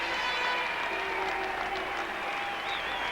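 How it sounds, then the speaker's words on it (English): A cricket crowd at a test match between the West Indies and Australia applauds steadily, a continuous wash of clapping heard from a distance for a few seconds. "Michael Slater leading the applause from the rooms."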